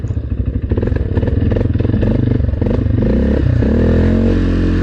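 An ATV engine drones loud and close while riding over bumpy ground, throttle rising and easing with rattling clatter from the vehicle, steady and continuous throughout.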